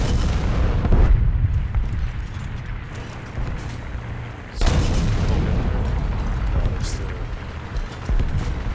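Artillery guns firing in War Thunder's Great War event, base defenses booming on the battlefield; several heavy blasts with rumbling tails over continuous battle noise, with someone talking through it.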